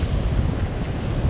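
Ocean surf washing back and forth on a beach, a steady broadband rush with wind buffeting, heard alone without voices.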